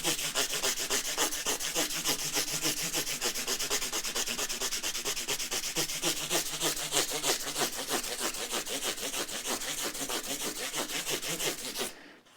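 Steady back-and-forth rubbing of 400 grit sandpaper on a Fender Stratocaster guitar, fast even strokes running continuously and close up, then stopping abruptly at the end.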